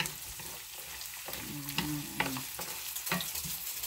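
Minced garlic sizzles steadily in hot oil for chili garlic peanuts, with a continuous close frying crackle and a few louder stirring clinks and scrapes against the pan.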